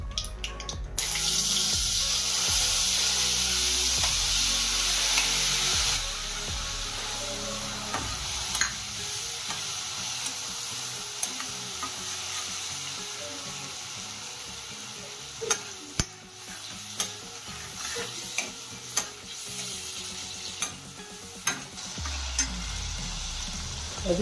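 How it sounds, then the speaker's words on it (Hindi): Spice paste for a raw mango curry fries in a pan with a continuous bright sizzle, and a spoon stirs and scrapes it with scattered clinks throughout. "अभी अपना मसाला भुन गया है"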